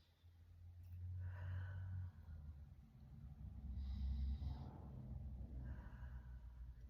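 Slow, deep breathing held through a yoga plank, long soft inhales and exhales rising and falling over a low steady background, close and fairly quiet with no talking.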